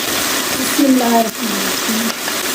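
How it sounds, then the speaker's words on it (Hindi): Bell peppers (shimla mirch) fry in a pan with a steady bright sizzle throughout, while someone talks over the cooking. "ये तकरीबन आधा किलो मेरे पास शिमला मिर्च है। तो इसको भी मैं साथ ही फ्राई करती हूँ थोड़ा सा।"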